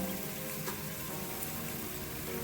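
Fried onion goes into a sizzling pan of potato, pea and meat curry, producing a dense, even frying hiss that holds steady throughout, close by and without talk.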